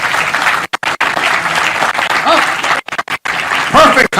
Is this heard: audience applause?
yes